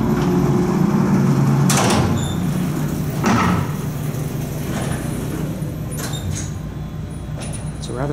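New electric doors of a small vintage Otis hydraulic freight elevator at St. Louis University: a few sharp clunks and door thuds over a steady motor hum, fairly close, with chimes near the end.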